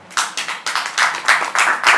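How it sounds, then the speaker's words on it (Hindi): Audience members at a live poetry performance clap in a rhythmic, steady beat, about a dozen distinct claps close together, loud and alone without talk. "तालियां बजा के इजाज़त दे"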